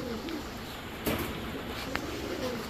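Soft, low cooing from a pair of green giribaz pigeons from Old Dhaka, faint and murmuring, with a couple of brief coos over quiet background hiss.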